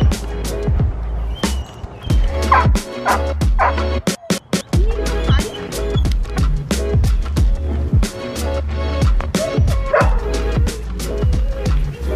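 Puppy barking in quick yips mixed with whimpers, close and loud, continuous over several seconds with brief pauses, as if inside a car.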